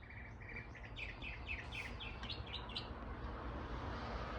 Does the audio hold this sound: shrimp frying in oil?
no